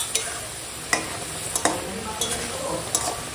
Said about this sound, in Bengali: আর এখন দিয়ে দেবো এই ভেজে রাখা পাবদা মাছ